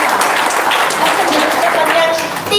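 An audience claps during an Indonesian talk about Hajj and Umrah, a short, dense burst of applause mixed with voices and crowd noise from start to finish.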